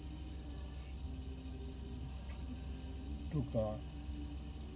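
Emma field crickets chirping steadily, a continuous high insect trill held at moderate, constant loudness throughout, with a brief voice speaking faintly near the end.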